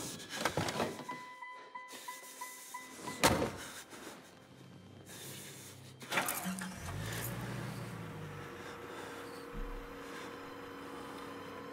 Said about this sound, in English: Do we seriously get in his vehicle and drive off?